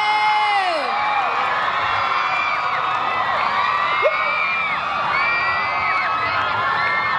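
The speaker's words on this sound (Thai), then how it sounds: "อ่ะขอเสียงกรี๊ดให้โทรศัพท์หน่อยเลย" A crowd of university students at a Silpakorn University ICT faculty campus star and moon performance shrieks and cheers. Many overlapping high-pitched screams and whoops rise and fall in a loud, sustained roar.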